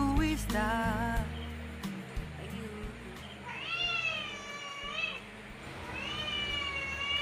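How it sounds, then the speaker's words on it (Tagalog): A recorded cat meowing plays through a Bluetooth speaker. Several drawn-out, rising and falling meows stand out over a steady low background hum. "Nag-play kami ng sound ng pusa."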